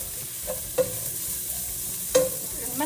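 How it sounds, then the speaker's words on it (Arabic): White beans stirred with spices in a hot pan, a steady sizzle broken by two or three sharp utensil scrapes and taps against the pan. "شوفوا كيف حركناهم بالبهارات"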